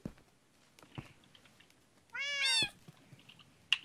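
A Siamese cat gives one loud, drawn-out meow lasting about half a second, close by, with faint clicks and small household noises around it.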